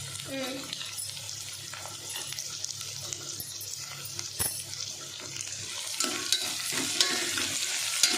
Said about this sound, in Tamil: ஆனியன் சேர்த்து ஆனியனும் நல்லா வதங்கணும்